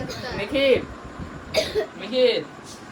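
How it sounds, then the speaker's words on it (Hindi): Someone coughs a few times in short, rough bursts close by, with a brief pause between the coughs. "खांसी हो रही है उसको"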